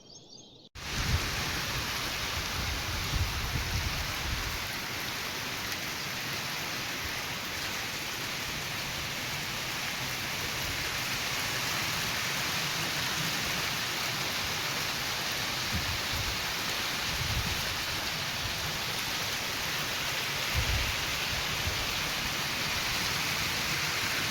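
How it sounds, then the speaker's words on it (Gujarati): Rain falling steadily on a farm field, a dense, even hiss of drops that starts abruptly and continues throughout, with occasional low rumbling swells underneath. "કાલે આપણે ઓલી વાડીએ વરસાદ આવ્યો હતો ને, એનું થોડુંક વિડીયો લીધો હતો"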